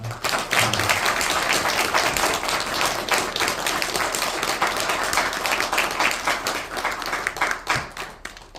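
A crowd applauds steadily at a poetry book launch event, a dense wash of clapping that holds strong throughout and thins slightly near the end.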